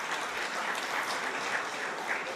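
An audience at a closing plenary session gives dense, continuous applause, loud and close, with no voices over it.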